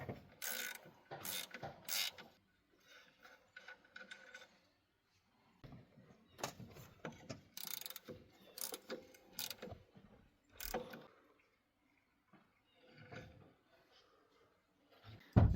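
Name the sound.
ratchet removing two 15mm alternator bolts, Chevy Silverado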